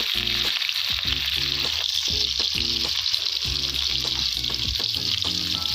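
Garlic, chili and onion fry in a pan for a village-style soybean and potato curry, with a continuous loud sizzle and a steady run of stirring scrapes close by.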